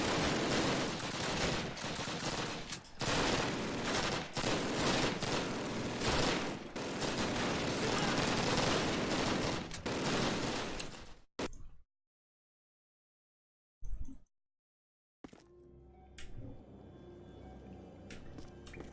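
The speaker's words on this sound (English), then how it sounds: "Those are friendly machine guns" Dense friendly machine gun fire in a Call of Duty battlefield scene, a loud sustained rattle of rapid bursts for about eleven seconds, then an abrupt cut to near silence and quieter distant ambience.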